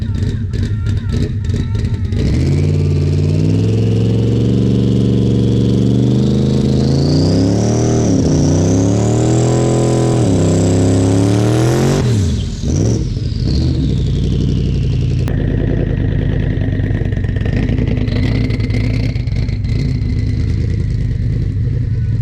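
A car with slick tires revs hard on snow, its engine note climbing and falling in long sweeping surges with steady clatter, loud and close, with a voice briefly heard.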